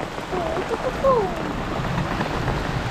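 Steady rain hissing across a wide band, a constant wash of drops with a few faint tonal chirps rising briefly over it.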